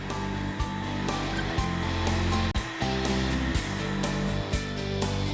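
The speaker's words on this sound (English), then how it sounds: "we add a touch more of the arts and crafts style by cutting a deep beveled edge around the tops of our legs." A power tool cuts a deep beveled edge around the tops of wooden legs for a Mission-style ottoman. It sounds as a loud, continuous whirring roar broken by short rhythmic dips and thumps as the cutter passes along the wood.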